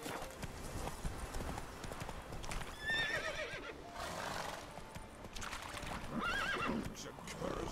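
A horse in The Witcher 3 clip-clops along at a steady gallop and lets out two shrill, wavering neighs, the hoofbeats rolling continuously beneath them.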